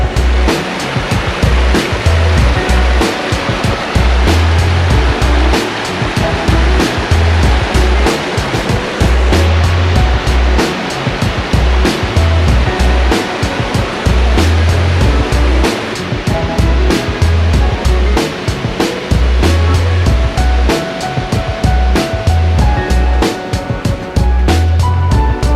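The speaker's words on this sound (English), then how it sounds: "I made it to the top of Trail Canyon Waterfall." Steady, loud rush of falling water close by at the top of the Trail Canyon waterfall in the Angeles National Forest, continuous throughout with a faint rhythmic low thumping underneath.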